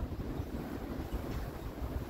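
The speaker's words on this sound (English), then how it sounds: "It's a little bit windy here." Wind blows steadily outdoors by a sauna, a faint, even rumbling rush with low buffeting and no voices.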